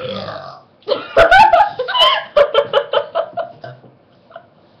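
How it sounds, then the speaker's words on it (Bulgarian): A woman lets out a long, loud, gurgling burp close to the microphone, breaking into a run of rhythmic laughing pulses that fade out at the end. "сега целият кафе ще ме слуша как се оригвам"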